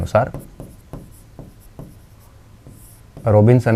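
Chalk or marker strokes on a board during a history lecture on Shivaji and the Marathas, a string of short scratchy taps at an even rhythm, fairly close, with someone talking briefly at the start and end.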